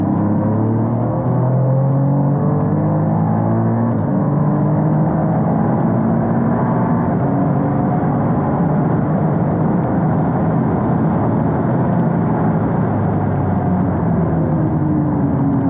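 An Alfa Romeo Stelvio Quadrifoglio engine pulls hard on a racing circuit, loud and close, its revs climbing in repeated rising sweeps under a steady roar with no one talking.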